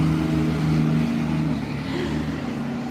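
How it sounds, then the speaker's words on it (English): Loud truck passing near the Smoky Mountains around Gatlinburg, Tennessee, a steady heavy engine rumble that holds strong and then eases slightly as it goes by, with no one talking. "I think that truck was quite loud"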